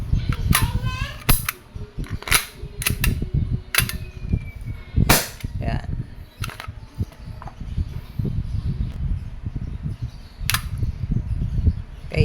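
An Umarex Glock 17 Gen 5 CO2 airgun fires without BBs, giving several loud, sharp pops spaced irregularly over a busy background of voices, including children.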